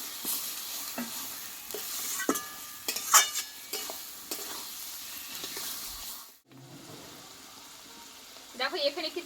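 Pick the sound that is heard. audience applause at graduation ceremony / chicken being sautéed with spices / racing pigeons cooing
chicken being sautéed with spices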